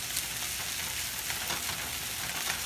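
Fried rice with green onion sizzling steadily in a pan, a dense continuous hiss of frying with light stirring scrapes, close and alone.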